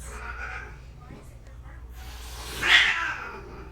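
Cats hissing indoors, a breathy snort-like hiss that swells and fades, with one louder, sharper hiss near the end, heard close over a low background.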